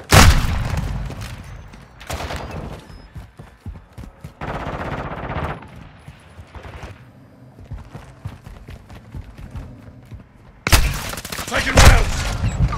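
Gunfire in Call of Duty: Modern Warfare II, loud bursts of automatic fire opening and closing the stretch with scattered shots and quieter gaps between, plus brief voice callouts in the game.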